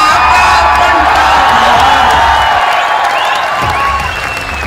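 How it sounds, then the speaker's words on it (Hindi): A large crowd at a political rally in Haryana claps and cheers loudly and without a break, with whoops and shouts rising above dense, continuous applause. "ये बिना सुने ही ताली बजाना"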